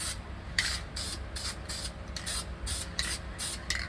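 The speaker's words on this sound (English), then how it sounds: "take a little high heat paint" High-heat spray paint hisses from an aerosol can in a run of short, regular bursts around welded areas on a Monte Carlo LS-swap project car, close up over a low hum.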